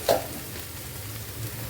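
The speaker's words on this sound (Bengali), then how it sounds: "এর মধ্যে আমি কিছু মশলা দিয়ে দিচ্ছি।" Spices go into a sizzling pan while a jackfruit curry cooks, giving a short stirring clatter at the start followed by a steady, close frying hiss with no speech.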